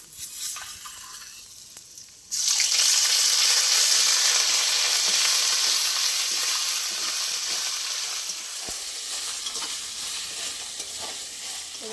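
Cashews and raisins sizzle loudly in hot oil, a steady bright frying hiss that bursts in after a quieter first two seconds and carries on with faint stirring underneath.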